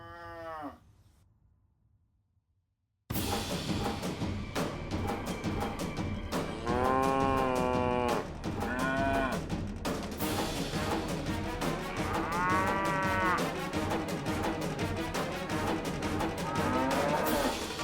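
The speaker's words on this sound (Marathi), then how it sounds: "तुला गाईचं हंबरणं ऐकू येत आहे" Cow mooing heard in a devotional drama scene, several drawn-out low calls rising and falling over a continuous music score, fairly loud and up close after a brief quiet opening.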